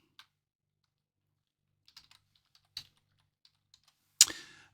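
Typing on a computer keyboard while entering text in Photoshop: sparse, quiet key taps in small clusters, then a louder final keystroke near the end, with no talking.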